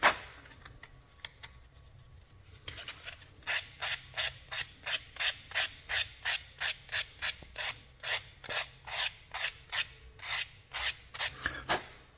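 Edge of a chrome obsidian blade being roughed up with 320-grit wet sandpaper: after a quiet start, a steady run of about twenty close rasping strokes in a regular back-and-forth rhythm.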